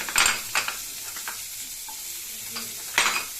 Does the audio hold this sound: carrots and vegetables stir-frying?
yes